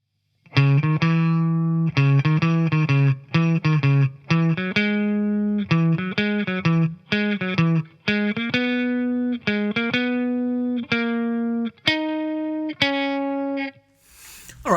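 Electric guitar playing a song intro as an arranged lead line of bright, plucked single notes in quick rhythmic phrases, close and clear with no talking.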